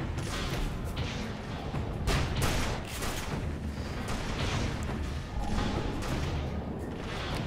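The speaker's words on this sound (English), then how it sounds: "I'm gonna shoot with my 12 gauge thing." Rapid heavy blasts from a 12-gauge shotgun in the sci-fi shooter Tribes Ascend during a team deathmatch, a dense run of loud booming shots and thuds throughout.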